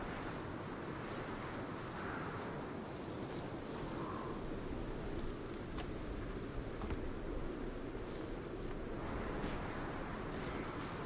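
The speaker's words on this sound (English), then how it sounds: "Have you seen how fucking windy it is, by the way?" Strong wind gusts in the Sons of the Forest survival game, a constant broad roar that surges and eases without pause.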